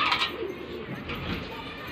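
Pigeons cooing in a loft with newly brought birds, soft low coos close by over faint background noise in a short moment.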